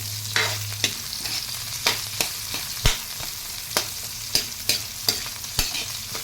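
Hot cooking oil sizzling in a pan, a steady close hiss broken by sharp, regular clinks and scrapes of stirring.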